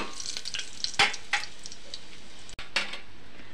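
A spice paste sizzles steadily in a pan on the stove for a home-cooked lunch, with a few sharp metallic stirs and clinks of a utensil against the pan standing out over the continuous frying hiss.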